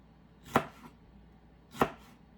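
Two crisp knife cuts through jalapeño peppers on a cutting board, spaced over a second apart, sharp and close with quiet room tone between them.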